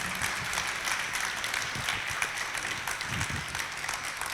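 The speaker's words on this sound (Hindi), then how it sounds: "एक बार 50 बार तालियां बजा दो इनके लिए।" An audience at a women's day religious discourse claps together in steady, dense applause that holds at an even level for the whole stretch, with no voices rising above it.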